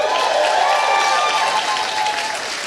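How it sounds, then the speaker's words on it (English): An audience at a student animation awards ceremony applauds the judges, a steady, full crowd clapping under a speaking voice that carries through it. "we want you to give a round of applause to each of the judges"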